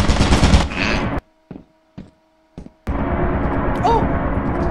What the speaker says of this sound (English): I didn't know it could shoot me through the fucking floor. Yeah, the turret could just kill.